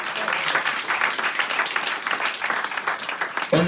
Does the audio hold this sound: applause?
yes